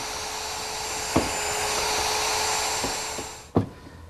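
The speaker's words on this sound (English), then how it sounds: "and route some more holes" A router drills shelf pin holes in a linen press case through a jig, giving a steady, high whine with a few sharp knocks as the bit plunges and the jig is moved. No voices are heard.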